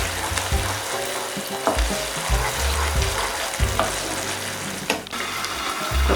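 Egg momo masala frying in oil in a pan, a continuous close sizzle broken by scraping stirs and occasional spatters, with no voices.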